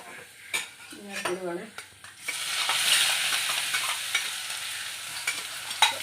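Chopped ingredients for a Kerala chira thoran, a leafy greens stir-fry, tip into a hot oiled pan and start to sizzle, with steady close frying hiss, spoon-on-pan scrapes and stirring clinks; a brief tonal sound comes before they drop in.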